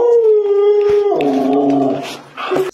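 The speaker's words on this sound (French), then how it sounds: "quand tu rentres chez toi et que ton chien t'accueille comme ça" A dog howls excitedly as it greets its owner at home, a long close sustained howl that wavers and breaks into whining yelps at the end.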